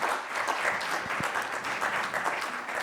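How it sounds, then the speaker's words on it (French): A conference audience claps in a sustained round, thick overlapping applause from a sizable hall with a few low thumps underneath, steady from start to end. "Merci de les applaudir, s'il vous plaît."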